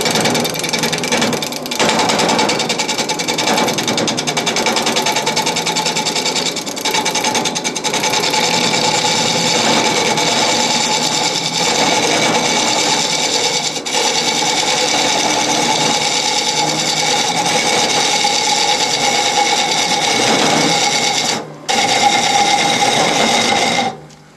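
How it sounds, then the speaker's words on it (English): A low-powered wood lathe spins a compound-stave bowl while a tool takes light cuts, producing a loud, steady mechanical whine and hum that runs continuously before cutting off abruptly near the end. "Remember, I haven't got a very powerful lathe, can't really take big cuts on it."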